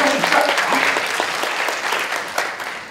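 Audience applause greets two guests at a university lecture hall, a dense, even burst of many hands clapping close by that holds steady for a few seconds before easing slightly.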